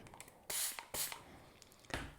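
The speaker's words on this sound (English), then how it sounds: "I'm going to put another spray of water" Three quick hissing bursts of a spray bottle misting water onto acrylic paint, close by, separated by short pauses.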